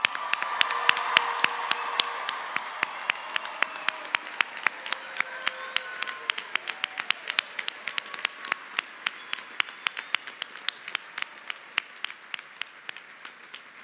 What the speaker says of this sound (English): A round of applause for all of our graduates.